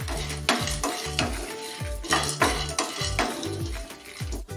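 Whole dried chilies tossed into a pan of frying peanuts, with rhythmic stirring scrapes and light metallic clinks over a continuous close sizzle, several strokes in quick succession, no talking.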